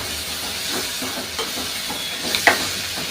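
Curry leaves sautéing lightly in a pan while making chutney, a steady soft sizzling hiss with a few small pops and crackles, close and alone without talk.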